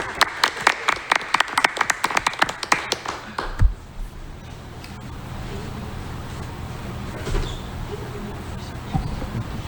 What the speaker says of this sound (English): you just wanted the thunderous applause just for you alone